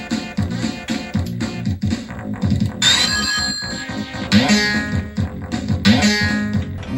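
Out-of-tune game music plays on an AtGames mini Sega Genesis, with bright square-wave and FM tones clashing in choppy, rhythmic chiptune phrases that are loud and continuous, with no voices.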